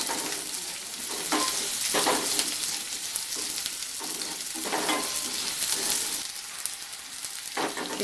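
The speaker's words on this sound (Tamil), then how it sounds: "இப்போ பூண்டும் வெங்காயமும் நல்லா வதங்கட்டும்." Garlic and onion with a little salt sautéing in a pan produce a constant sizzling hiss, with soft periodic stirring strokes roughly every second, close but fairly quiet.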